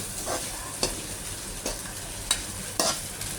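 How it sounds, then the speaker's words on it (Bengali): Fried rice stirred in a pan gives a steady frying hiss, broken by sharp utensil scrapes at regular intervals, close and clear with no talking. "এই যে নেড়ে চেড়ে নিতে থাকলাম আমরা।"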